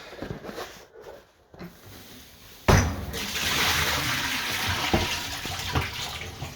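Boiling water used to sterilize brewing gear pours out of a tub in a sudden loud rush, then a steady splashing stream of running water continues close by.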